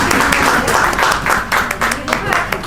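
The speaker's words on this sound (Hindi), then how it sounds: "एक बार जोरदार ताली।" Audience clapping loudly at a cooking competition grand finale in Bundelkhand, a brief burst of rhythmic applause mixed with voices.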